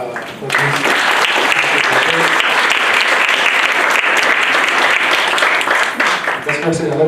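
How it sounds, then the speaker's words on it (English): Loud, dense clapping from a school audience at a farewell celebration, starting after a brief moment and sustained evenly throughout, with a voice faintly audible near the end. "Please clap"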